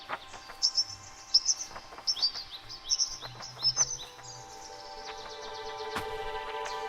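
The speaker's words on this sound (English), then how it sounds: "What are these birds talking about?" Several birds chirp and tweet in quick, bright bursts, close and fairly clear, with short pauses between calls, then a steadier faint background hum rises near the end; no one speaks.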